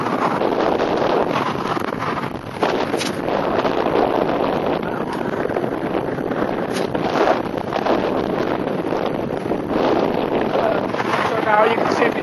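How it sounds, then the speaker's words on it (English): Strong, hot-turned-cool desert wind of a sandstorm near Scottsdale, roaring and buffeting the microphone steadily and loudly throughout, with someone talking under it. "It seems like we have a little sandstorm going here"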